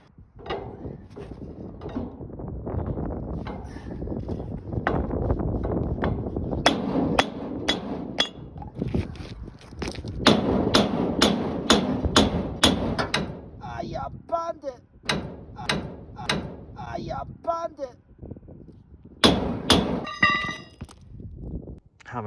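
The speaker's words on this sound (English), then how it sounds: "some precision hammering" Sharp metallic hammer blows striking a bent metal door rail to straighten it by hand on a farm, coming in irregular bursts of rapid ringing hits, with talking in between.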